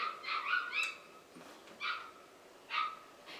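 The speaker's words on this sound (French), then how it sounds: "Le chien du voisin." A neighbour's dog barks in short, sharp bursts from some distance: a quick cluster of yaps, a pause, then two more separate barks, moderately faint against a quiet room.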